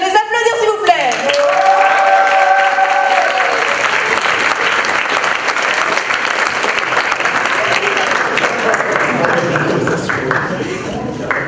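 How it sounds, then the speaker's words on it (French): Loud, sustained audience applause for musical performers at a talent show, a dense roar of clapping with some crowd noise, preceded briefly by a voice. "Je vous demande de les applaudir s'il vous plaît."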